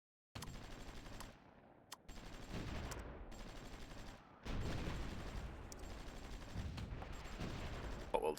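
Artillery fires on zombies in the strategy game SR2030 as sustained, rattling barrages of rapid bursts. The firing comes in several segments with brief pauses between them and grows louder and denser after the midpoint, with no talking.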